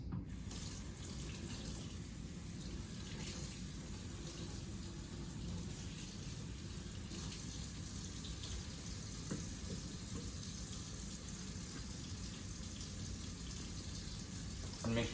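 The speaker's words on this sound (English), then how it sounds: "I'll go ahead and wash my hands." Hands and forearms being washed under a running tap, a steady even rush of water that continues unchanged from start to finish, with no voices.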